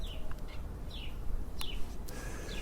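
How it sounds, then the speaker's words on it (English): Birds sing in a Brooklyn apartment backyard. Several short, bright, descending chirps and whistles come from a moderate distance, over a steady low rumble of city background noise. "Listen, you can hear the birds."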